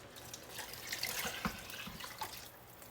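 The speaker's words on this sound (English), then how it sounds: "It's back at a boil again, so I'm going to go ahead and add in my beef stock" Beef stock is poured into a pot of boiling goulash, giving a short splashing, trickling pour with small drips, moderately close and fairly quiet, no talking.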